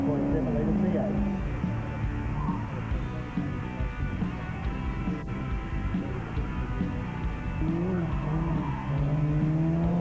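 Classic rally car with a 5.7 litre V8 engine, Group N gravel rally, rumbling and revving past with rising and falling engine tones and some tyre scrabble, under someone talking throughout.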